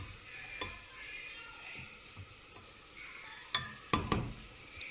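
Meat frying over a high flame in a pot with onion, tomato and green masala, a soft steady sizzle broken by a few distinct stirring scrapes and knocks, strongest near the end, with no one talking.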